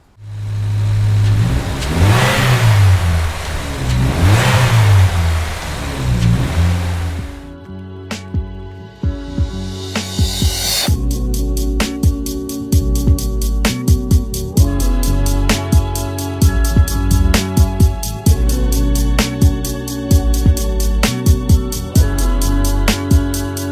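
A 2022 Subaru WRX engine with its stock blow-off valve revs loudly and repeatedly, then settles into a rhythmic idle with sharp bursts, the exhaust note close and steady throughout.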